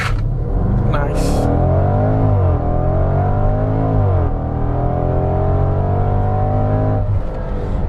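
A Range Rover Velar SV Autobiography launches hard: a loud engine note climbs in pitch, dips and rises again, then holds a steady high drone before easing off. Brief voices are heard over it at the start.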